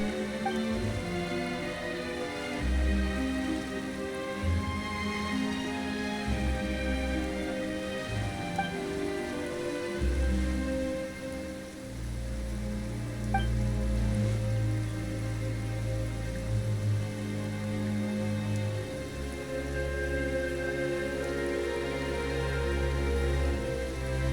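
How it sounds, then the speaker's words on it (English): Rain falling in the Genshin Impact video game, a soft continuous patter under a layered musical score that swells and shifts throughout. "Why is it raining all of a sudden?"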